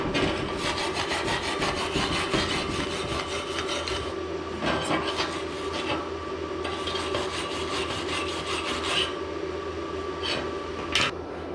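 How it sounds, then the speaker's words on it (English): A wire brush scrubs back and forth over steel around a flux-core weld, a steady dense rasping that runs for about eleven seconds with brief pauses and a sharp scrape near the end, close and moderately loud. "Here's the wire brush I gave you."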